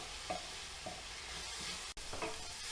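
Onions frying in a pan for a cottage pie, with a quiet, steady sizzle and a few soft stirring scrapes, and one brief dropout near the end.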